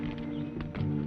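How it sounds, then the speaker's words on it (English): Horse hooves clip-clopping on the ground with some background rumble, brief and fairly close. "Get on your horse."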